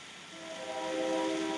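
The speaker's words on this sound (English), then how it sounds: "And the train does its shebang again." A train passes nearby, a steady rushing hiss with a sustained horn-like tone that swells and grows louder toward the end, with no voices.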